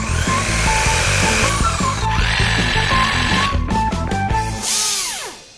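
Black & Decker 9.6 V cordless drill/driver runs loud and close, motor whining steadily before winding down in a falling pitch at the end.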